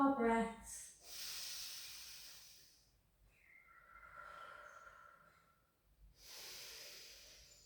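Slow breathing during a held pilates pose in a breast cancer rehab class: a close, soft hissing exhale, a long quieter stretch, then another breath.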